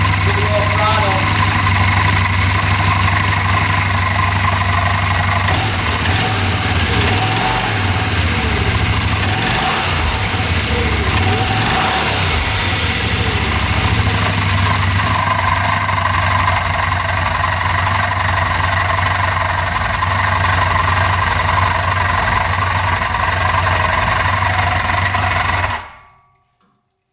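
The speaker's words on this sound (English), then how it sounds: "There's something grinding in there." A UTV engine idles steadily up close with a rough, low mechanical grinding from inside, briefly rising with throttle blips before cutting off at the end, with voices talking over it.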